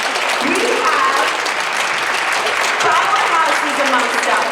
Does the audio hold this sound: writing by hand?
no